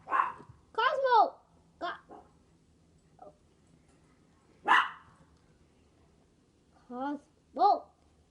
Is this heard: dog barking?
yes